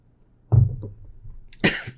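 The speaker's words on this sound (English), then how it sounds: "You make me choke on my my coffee." Coughing fits from a person choking on coffee: a sharp burst, a few rougher coughs, then a second loud breathy cough near the end, close up in a quiet room.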